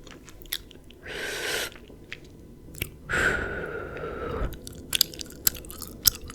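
Gum chewing close to the microphone, with two longer bursts of wet, smacking mastication separated by quiet, then scattered soft clicks and pops of the mouth.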